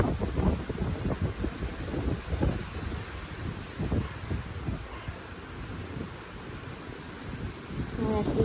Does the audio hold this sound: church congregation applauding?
no